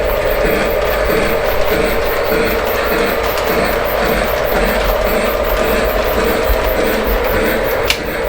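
A model railway turnout being cycled on a home layout, with steady mechanical clicking and ratcheting over a constant hum, closing with a single sharp click near the end.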